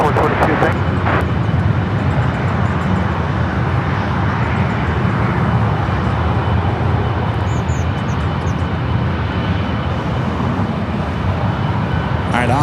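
Airliner jet engines roar at LAX airport as a loud, continuous broadband rumble close by, with voices talking over the engine noise throughout.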